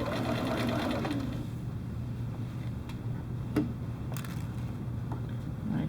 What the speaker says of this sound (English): I'm going to just machine stitch it right here.